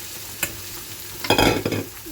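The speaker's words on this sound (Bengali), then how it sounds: "এই দেখো পেঁয়াজটা আমার ভাজা ভাজা হয়ে এসছে এখন আমি দিয়ে দেবো কেটে রাখা অ্যাভোকাডোগুলো" Cut avocado lands in a pan of frying onions, sparking a brief loud sizzling burst after a single sharp clink, with the crackle settling into a low fry.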